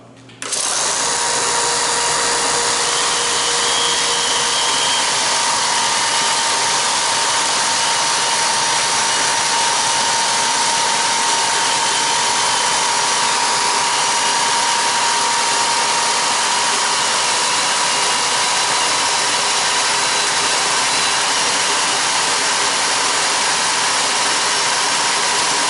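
A barrel taper tool spins on an electric sander, giving a loud, steady motor whine with a constant pitch that runs unbroken from just after the start to the end, with no voices.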